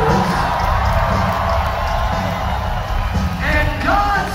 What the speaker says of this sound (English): So a big round of applause for our Austin brothers.